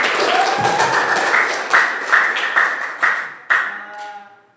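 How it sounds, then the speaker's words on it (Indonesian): An audience in a classroom session claps hands together for a few seconds, the applause pulsing in uneven bursts before fading out. "Oke, beri tepuk tangan dulu."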